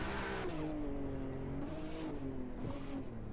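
A car drifting in the racing game Assetto Corsa during a multiplayer street race, its engine droning loud and steady with pitch sweeping up and down as revs rise and fall, with no talk.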